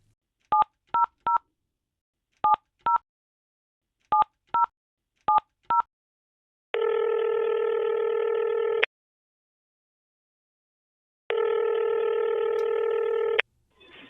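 Touch-tone telephone dialing beeps come in quick groups of short tones, then two long steady ringback tones sound separated by silence, heard close and clear.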